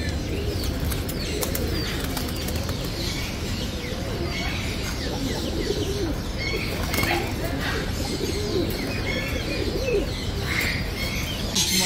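Raw'ad breed pigeons coo and flap their wings amid a busy animal and bird shop, with steady chirps and bird calls over a constant crowd murmur and talking.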